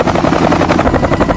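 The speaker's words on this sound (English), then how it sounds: "The helicopter touches down safely, completing the most demanding part of the autorotation." A helicopter touching down at the end of an autorotation landing, its rotor producing a loud, dense, rapidly pulsing thump that fills the whole moment at close range.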